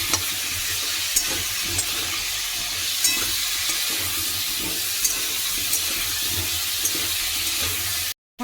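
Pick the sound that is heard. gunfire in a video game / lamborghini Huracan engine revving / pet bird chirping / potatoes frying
potatoes frying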